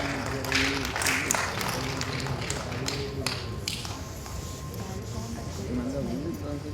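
Audience at an award function clapping, a fairly faint but continuous patter of hands with a voice and tonal sounds running beneath it.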